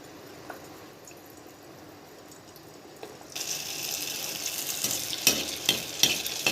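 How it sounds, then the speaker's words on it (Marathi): Hot oil mixed with ghee is poured over jaggery anarse frying on low heat. A quiet hiss suddenly swells into loud, steady crackling sizzle about halfway through, with sharper spattering bursts near the end. "बघा याप्रमाणे आपण असं तेल त्यावरती टाकायचं आहे"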